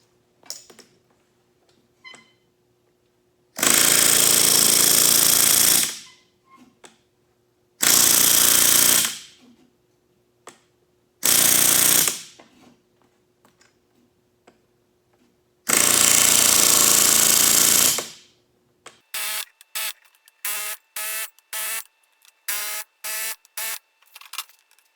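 Bursts of rapid, loud pneumatic hammering on aluminum rivets start and stop repeatedly, several seconds each, followed by a string of shorter sharp bursts.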